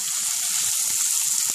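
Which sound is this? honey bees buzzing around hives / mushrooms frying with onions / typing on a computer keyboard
mushrooms frying with onions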